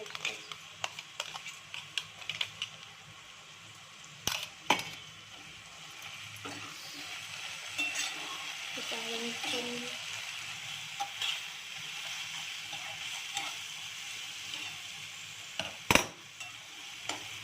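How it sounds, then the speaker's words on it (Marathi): Green chili and garlic sauté with onion and potato in a pan for a Maharashtrian methi-potato dish, giving a steady close sizzle and repeated scraping stirs with sharp utensil clicks, no talking. "मिरची पण झाली आता परतून"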